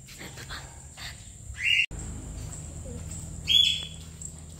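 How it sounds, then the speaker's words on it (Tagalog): A small visiting bird gives two short, bright chirps about two seconds apart, close and fairly clear over a low background rumble. "At iyan yung visitor na ibon ngayon."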